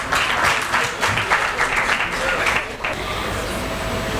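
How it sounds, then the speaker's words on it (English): Applause from an audience at a public relations excellence awards ceremony, a dense steady clapping that fills the room for about four seconds, loud and close. "So a big round of applause."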